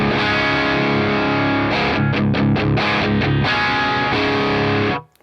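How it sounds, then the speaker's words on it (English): An electric guitar through a slightly driven Marshall JCM 800 tube amp with a Naomi Crunch Distortion pedal: sustained chords, a quick rhythmic strummed section, then ringing chords that cut off abruptly. "test out the pedal with a slightly driven amplifier"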